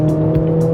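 A Mercedes-AMG GLA45s engine in race mode holds a loud, steady high-revving drone under acceleration, heard close and continuous for under a second.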